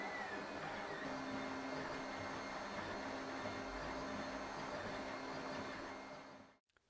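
A 3D printer runs steadily while printing robot parts at 30% infill, a continuous whirring motor hum with faint tonal stepper whines, close and alone, cutting off abruptly near the end.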